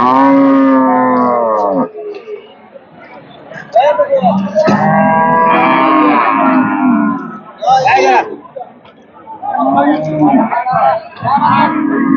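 Pregnant dairy cows at the Hazratpur cattle market moo in loud, close, drawn-out calls, several in sequence, amid crowd chatter and people talking.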